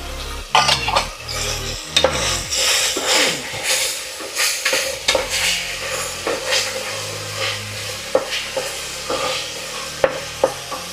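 Onions with ginger garlic paste sizzle in a pan as a spoon stirs and scrapes against the metal, with steady frying under repeated clanks and rubs.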